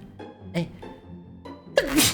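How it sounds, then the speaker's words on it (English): A single quick, sharp sneeze bursts out loud and close near the end, after brief bits of a person talking; a short spoken word comes just before it. "I maybe have to sneeze"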